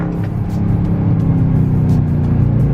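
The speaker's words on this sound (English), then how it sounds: "And as it's downshifting, hit the gas." A Dodge Charger 345 R/T at night gives a loud, deep V8 rumble during a downshift, the engine note throbbing steadily from the cabin with no talk over it.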